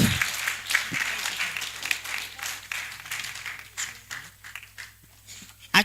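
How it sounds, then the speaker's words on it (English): Scattered applause from an audience at a New Year school and conference as a speaker comes up, fairly steady for several seconds, with a low hum underneath and the clapping thinning toward the end. "A round of applause for her as she comes up."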